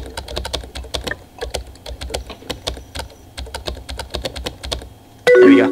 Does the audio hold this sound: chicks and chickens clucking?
no